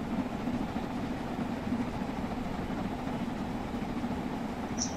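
Stanier 8F steam locomotive hauling a 400-ton train at speed on the Great Western Main Line in Train Sim World 2, a steady, loud rolling drone with a low rhythmic hum and no talking.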